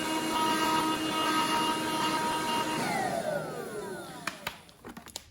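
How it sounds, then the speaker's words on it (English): A hoover vacuums up stones from a model railway layout, a loud steady motor whine that winds down in pitch, followed by a few sharp rattles of stones. "I've got a hoover. I'm going to try and hoover this up, collect it in the little box"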